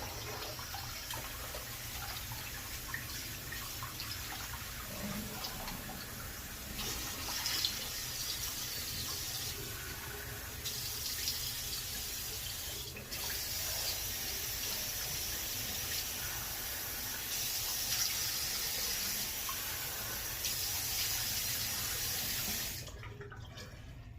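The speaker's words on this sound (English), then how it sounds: "I'm gonna go ahead and rinse off warm water and then cold water." Warm then cold water runs steadily from a tap for rinsing the face, a continuous splashing hiss that goes on for most of the stretch before easing off near the end.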